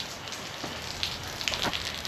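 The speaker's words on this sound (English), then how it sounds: "And as you can see, and probably hear, it's now dumping rain." Heavy rain pours steadily outside a shop as a constant hiss with a few louder drips, moderately quiet and alone.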